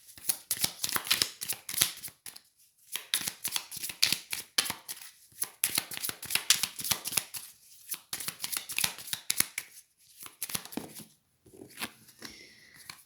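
Tarot cards shuffled by hand at close range, quick crisp riffling bursts repeating in irregular rhythm with short quiet pauses between them.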